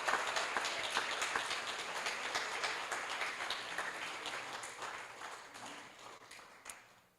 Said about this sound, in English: everyone give Matt another round of applause